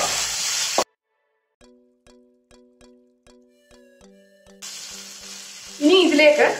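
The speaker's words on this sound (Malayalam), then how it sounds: "ഇതും കൂടെ ചേർത്ത് നന്നായിട്ടൊന്ന് മിക്സ് ചെയ്ത് കൊടുക്കുക" Boiled potato is stirred into a fish cutlet mixture in a pan for a Kerala-style recipe. Brief scraping and mixing noise opens and closes the passage, with a short run of clean chiming tones between.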